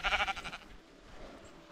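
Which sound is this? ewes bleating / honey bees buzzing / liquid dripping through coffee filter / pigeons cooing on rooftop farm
ewes bleating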